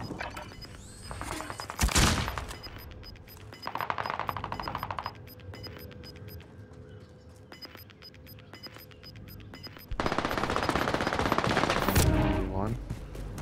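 Gunfire in a Call of Duty mod match: sharp shots and bursts of automatic fire ring out, some near and loud, others quieter, with brief bits of player chatter.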